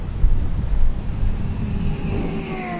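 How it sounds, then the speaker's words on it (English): Gusty wind buffets the microphone outdoors at a flying field, a broad rumbling roar that swells and eases, with a faint engine-like whine rising in the background. "It's awfully gusty out here, folks."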